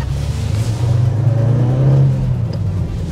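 Toyota Altezza with a changed final drive and about 170,000 km on it, engine droning and pulling steadily under low-speed acceleration, heard from inside the cabin with a loud, continuous rumble.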